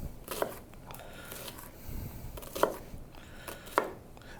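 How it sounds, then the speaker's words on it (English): A knife chops onion on a cutting board in a home kitchen, giving three distinct, moderately loud strikes spaced about a second apart over a low background hum. "So we'll cut up some onion here."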